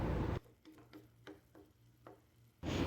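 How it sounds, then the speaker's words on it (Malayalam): Tomatoes sautéed with salt in a pan for egg curry: soft sizzling with a few distinct scrapes and taps of a spoon against the pan, quiet and close, framed by louder bursts at start and end. "ഇനി തക്കാളിയും കൂടെ ചേർത്ത് ബ്രൗൺ ഷെയ്ഡ് ആവുന്നിടം വരെ നല്ലപോലെ വഴറ്റിയെടുക്കാം"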